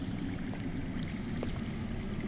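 Underground water flows with a steady, low rushing murmur in a Game of Thrones Telltale video game scene, continuous and fairly quiet with no talk.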